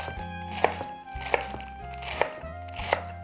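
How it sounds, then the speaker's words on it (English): A knife chops washed and dried romaine lettuce on a cutting board, with crisp regular strokes landing about once every three quarters of a second, close and fairly quiet. "chop the lettuce."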